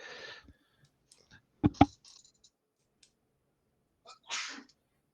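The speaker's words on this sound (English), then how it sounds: "Still counts as a sneeze." A person lets out a sneeze during a tabletop role-playing game session: two sharp, close bursts in quick succession, with a softer breathy sound trailing a few seconds later.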